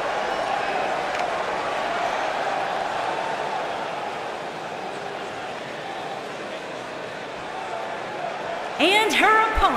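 Crowd in a sold-out arena in a wrestling video game, a steady roar of cheering running under continuous commentary, with a short burst of brighter noise near the end.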